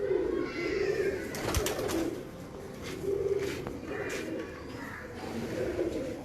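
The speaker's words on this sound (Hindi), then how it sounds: "थानेदार ब्रीड में से एक और कबूतर मेरे पास आया" Thanedar breed pigeon cooing, steady low throaty coos in repeated bouts with brief pauses, close and moderately loud, no talking.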